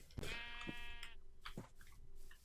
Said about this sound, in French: arrêtez de me faire peur, les moutons